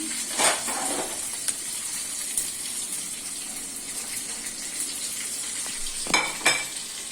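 Fish pieces dropped into a pan of hot frying masala with potatoes, giving a steady close sizzle with two louder hissing bursts near the start and end, no talking.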